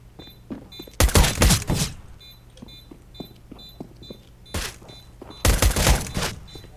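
Bursts of rapid gunfire in the game CS:GO, two loud volleys with quieter single shots and clicks in between, forming a close, punchy exchange.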